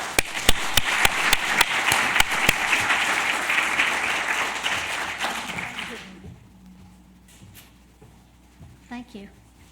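Audience applause for a speaker at a university research seminar, a dense steady clatter of many hands for about six seconds before tapering off into near silence with a few faint handling noises.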